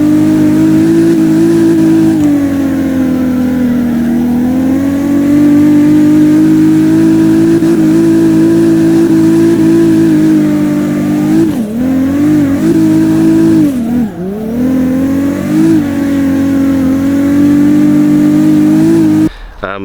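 The car engine in the CarX Drift video game holds a steady loud drone while drifting, with brief revving swells and dips, as a person talks over it.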